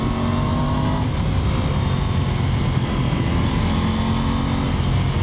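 Aprilia Tuono 660 Factory motorcycle engine running steadily under the rider, a loud, continuous throaty drone with a slight rise in pitch near the start and again later, no voices.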